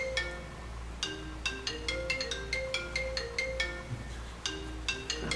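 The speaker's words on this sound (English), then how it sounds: "I think it's your phone, Mark." A phone rings during a township trustees meeting, a melodic tone pattern repeating in regular bursts, fairly faint against the room's low hum, with no talk over it.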